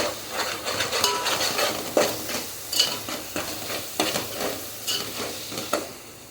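Egg masala stirred in a pan with spices, a spoon scraping and tapping the metal in a steady rhythm of strokes over a faint sizzle, close and clear with no talking.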